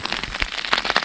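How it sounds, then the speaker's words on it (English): Rain patters on a tent, a dense close crackle of drops striking the fabric with a few sharper taps, steady throughout and with no voices. "you can see the rain just beading off everything"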